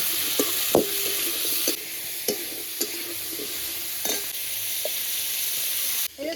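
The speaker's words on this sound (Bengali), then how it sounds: "পটল আর আলুটা দিয়ে ভালো করে ভাজবো" Pointed gourd and potato fry with salt, turmeric and slit green chilli in a pan, giving a steady close sizzle broken by occasional sharp scrapes and clinks of a spatula stirring.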